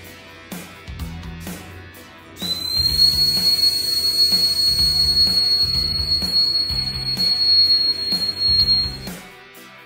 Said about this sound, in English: You will also test the whistle.